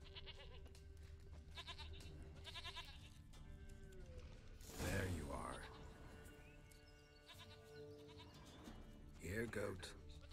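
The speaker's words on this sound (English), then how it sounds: "Goat." A goat bleats several times, quiet and fairly close, among the other game sounds of The Witcher 3 next-gen version, with someone talking over it.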